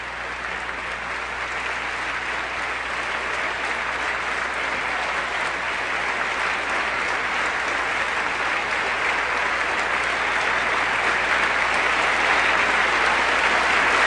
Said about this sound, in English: That's quite a long round of applause for President Aquino.